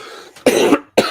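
Two harsh, close coughs in quick succession, the first longer and rougher, the second cut short, with a faint breathy sound before them.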